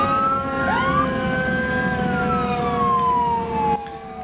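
An ambulance siren in the emergency-services video game Emergency 4 wails loudly and continuously, its pitch sweeping up and gliding down over a low engine rumble, with no voices.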